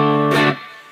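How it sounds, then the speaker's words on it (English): An electric guitar runs through an MXR Custom Badass '78 Distortion pedal with the distortion turned all the way off, giving a mild natural overdrive: one strummed chord rings loud and sustained, then fades. "Now that gives you a nice natural kind of overdrive"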